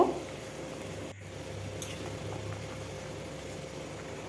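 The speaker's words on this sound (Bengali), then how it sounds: "ঝোলটা ফুটে উঠেছে কত সুন্দর হয়েছে" Thin fish curry gravy with ridge gourd and potato bubbles in a pot, a soft continuous simmering hiss and gentle bubbling, quiet and close with a brief clatter near the start.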